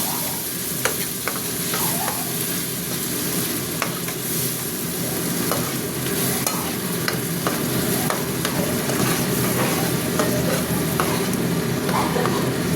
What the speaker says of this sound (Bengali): মশলাটা এবার কষা হবে।